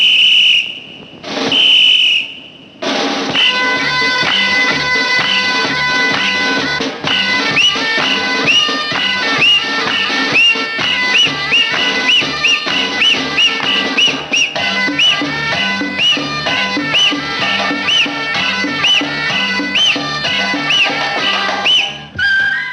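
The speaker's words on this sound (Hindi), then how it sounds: "मीटर पे सीटी बजती थी" In a Hindi film song, two sharp whistle blasts ring out before a full, loud music track kicks in, with whistle tones recurring on the beat throughout.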